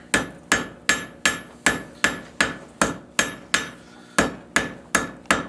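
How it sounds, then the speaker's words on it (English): Steady, evenly spaced hammer strikes drawing hot metal to a point on an anvil, about a dozen sharp ringing blows close up, with a brief pause before the rhythm resumes; no talking. "It takes fewer hammer strokes to make it pointy"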